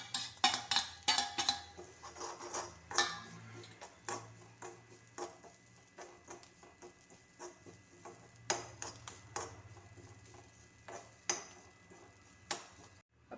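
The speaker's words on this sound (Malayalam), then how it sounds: "നമ്മൾ തേങ്ങ ഇവിടെ വറുക്കുകയാണ് ചെയ്യുന്നത്." Grated coconut roasting with a little coconut oil and a pinch of salt in a pan for an egg curry, giving scattered quiet scrapes, taps and clinks of stirring, close and fairly faint, with no talk.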